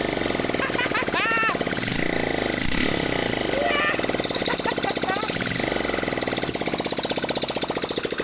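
A Motobécane Poney moped engine runs with a fast, rapid putter that never lets up, close and loud, with a voice talking over it.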